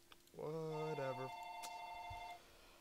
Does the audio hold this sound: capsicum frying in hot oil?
no